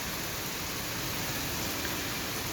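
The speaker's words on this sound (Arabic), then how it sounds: "سامعين طبعا صوت المطر وشايفين طبعا المطر" Heavy, steady rain falls in a continuous broadband hiss, loud and even from start to finish, with no voices or other distinct sounds.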